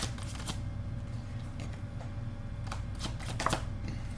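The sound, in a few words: tarot cards being drawn and shuffled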